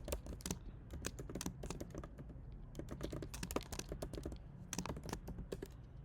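Close, crisp clicking of a computer keyboard as JavaScript code is typed, quick irregular bursts of keystrokes with brief pauses between runs, moderately quiet and with no talking.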